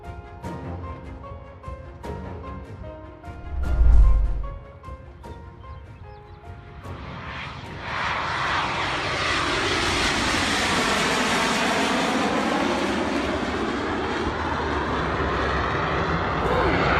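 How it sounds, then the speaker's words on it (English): A World War II P-38 Lightning fighter plane at Duxford airfield, UK, during a crash: a brief dull thump followed by a loud, sustained broadband engine roar that builds and persists. "This is crash footage of the famous World War II airfighter P-38 Lightning in Duxford"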